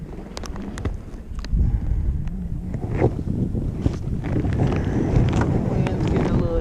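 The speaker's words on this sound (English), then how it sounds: "Wind's getting a little trippy." Wind buffets the microphone outdoors on a bass fishing boat, a low rumbling roar that rises and falls, with small knocks and thumps of movement on board.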